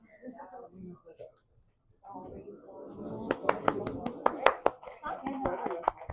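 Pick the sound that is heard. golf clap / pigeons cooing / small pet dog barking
golf clap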